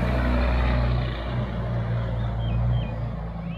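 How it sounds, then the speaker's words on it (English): Heavy lorries from nearby building work drive along a residential street, a steady low engine rumble rolling on close by and fairly loud throughout. "we've got a few lorries going up and down the street"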